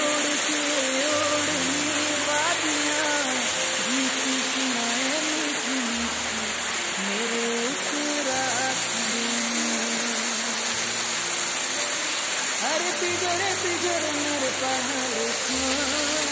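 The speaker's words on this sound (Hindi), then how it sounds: "ये मेरे पीछे natural waterfall आप देख सकते हैं" Steady, dense rushing of a natural waterfall in monsoon season, beside the road from Khairna to Ranikhet, fills the scene without pause, with a faint melody running underneath.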